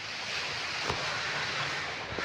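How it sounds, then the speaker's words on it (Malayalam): Broad, steady roar of surf with wind rumbling over the microphone; waves wash continuously with no distinct breaks. "കടൽ എത്തി അല്ലേ?"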